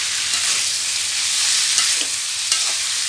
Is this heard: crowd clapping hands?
no